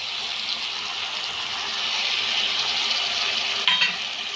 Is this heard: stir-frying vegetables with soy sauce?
yes